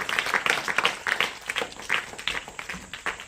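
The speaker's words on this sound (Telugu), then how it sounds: "క్లాప్, గట్టిగా క్లాప్ కొట్టండి, గట్టిగా." Students in a coaching-center classroom clap hard together, a rapid, uneven burst of close hand claps lasting a few seconds with no talk over it.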